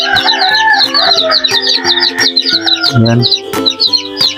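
Kanawayan chicken chicks peep and cheep in a busy, continuous chorus of high calls, close by, while someone talks over them.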